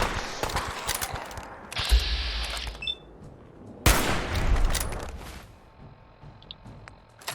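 Gunfire in Fallout 4, a hunting rifle in play: several sharp, loud shots and cracks with echoing tails and some clattering game effects between them, close and without talk.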